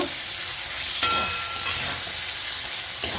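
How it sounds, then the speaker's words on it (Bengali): Chopped tomato and green chilli are frying with onion, garlic and ginger paste in a pan, giving a steady close sizzle broken by a few sharp scrapes of stirring. "দিয়ে দিলাম টমেটো কুচি আর কাঁচা লঙ্কা বেশ এটা ভালো করে ভেজে নেব"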